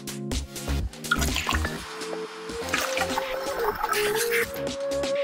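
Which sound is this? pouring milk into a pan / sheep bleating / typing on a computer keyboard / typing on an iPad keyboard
pouring milk into a pan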